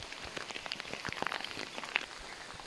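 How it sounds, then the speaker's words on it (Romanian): Light summer rain falls in the Vârghiș Gorge of Romania's Perșani Mountains, a soft, faint patter of scattered individual drops ticking irregularly on nearby surfaces, with no voices. "Ne-a prins și puțină ploicică"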